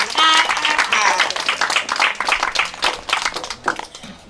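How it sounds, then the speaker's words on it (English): An audience gives children another round of applause after their stage performance at an event, a loud burst of crowd clapping with a voice talking over it, trailing away toward the end. "Give them another round of applause."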